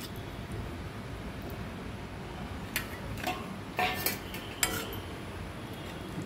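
Brinjal dropped into a pan of curd and spices for kalya vangyachi bhaji: a few soft clinks and scrapes of utensil against pan, faint, over a steady background hiss.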